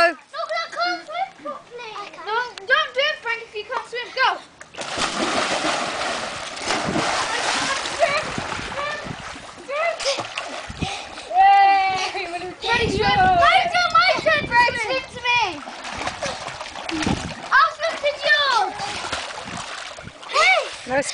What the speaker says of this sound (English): No splashing.